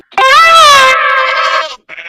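A grazing goat gives one loud, close, drawn-out bleat, a wavering nasal cry lasting over a second, followed by a brief softer call.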